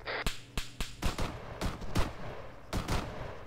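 Automatic rifle gunfire in a video game, a run of sharp, loud, irregularly spaced shots and short bursts, with no talk over them.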